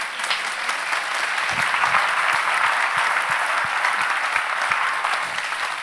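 Audience at a business school graduation ceremony applauding steadily, a dense, even wash of many hands clapping throughout, fairly loud and unbroken, with no talk over it.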